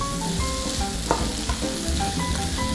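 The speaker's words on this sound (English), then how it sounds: "You just keep stirring it." A potato and chorizo breakfast hash sizzles in a pan while being stirred, a close, continuous fry with scraping spoon strokes and no voices.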